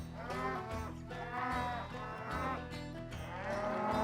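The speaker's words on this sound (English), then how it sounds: "is sorting of the cattle in different, you know, categories" Cattle being sorted into groups moo repeatedly, long low drawn-out calls overlapping one another at close range over steady farmyard background, with no talking.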